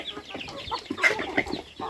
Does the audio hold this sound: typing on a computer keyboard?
no